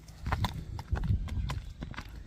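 Horses being walked at a horse sale in Sary Kolot, Kyrgyzstan, give off a steady, moderately loud clip-clop of hooves, with other soft background noise around them.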